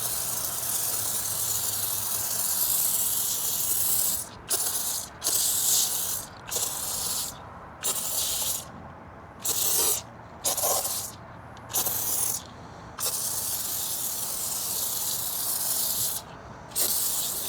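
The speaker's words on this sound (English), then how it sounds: "let me just go ahead and spray the foam here" A pump sprayer mists foaming rinseless wash onto a car wheel in loud, steady hissing bursts of varying length, separated by short silent gaps as the trigger is released, up close with no talking.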